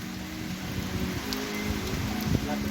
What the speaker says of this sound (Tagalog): Lakas ang ulan, oh.